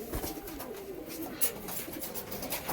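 Flying-breed pigeons, trained high fliers kept at a home, give soft, steady cooing nearby with light background noise and no talk.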